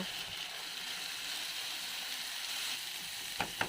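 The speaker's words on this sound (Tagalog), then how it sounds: "Saka natin dyan isusunod ang patatas at carrots. Igisa lang muna natin ito." Onion, potatoes and carrots sauté in hot oil in a pan, giving a steady close sizzle throughout, with a couple of brief utensil scrapes near the end.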